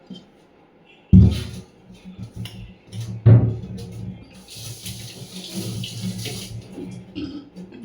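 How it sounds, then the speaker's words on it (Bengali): A clay pot being washed with soap and water at a sink: running tap water splashes steadily, with a couple of louder knocks and clatters of the pot near the start. "এখন এটা সাবান দিয়ে ভালো করে পরিষ্কার করে ধুতে হবে"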